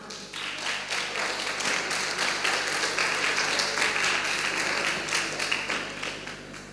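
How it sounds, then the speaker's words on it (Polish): Conference audience applauding in a hall, a steady wash of many hands clapping at moderate distance that holds for several seconds without speech. "Wielkie oklaski dla was."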